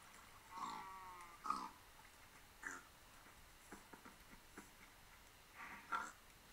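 Pigs in the video game Minecraft, a few short grunts spaced across the stretch, fairly faint over a quiet game background.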